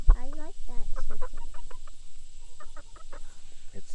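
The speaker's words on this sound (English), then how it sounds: "this is our first chicken that's ever been born here" A chicken, the first born on the farm, clucks close by in short rhythmic bursts and repeated calls over about four seconds, with no talk over it.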